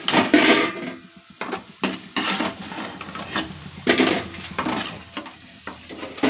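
Pea lentil fritters frying in hot oil and being lifted out of the pan: a steady soft sizzle broken by repeated close scrapes and clanks of a utensil against the pan, with no voices.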